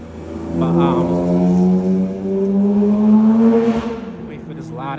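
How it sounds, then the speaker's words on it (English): A loud car engine roars past on a city street in Newark, New Jersey, a sustained, rising and falling drone that swells over several seconds and then fades away. "wait for this loud ass car to go away"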